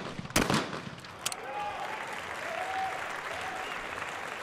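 Spectators at an Olympic men's skeet shooting final in Rio applaud after a sharp shotgun crack, with a sustained, moderately distant clapping that holds steady.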